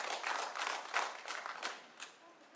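Scattered hand clapping from a small group fills a council chamber, a brief ragged round of applause with uneven claps that fade toward the end.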